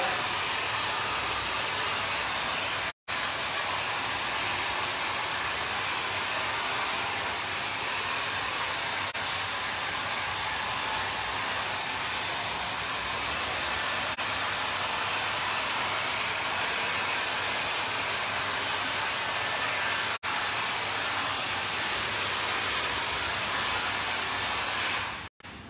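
A hair dryer blows steadily and loudly at close range while a man's hair is dried during a scissor haircut, a constant airy roar with only a couple of brief cutoffs.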